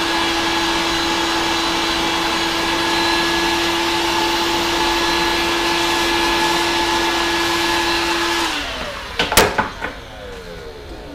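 A heat gun used on a DIY hydroponic garden tower blows a loud, steady airy roar with a tonal hum, then winds down and stops, followed by a few sharp clicks and knocks.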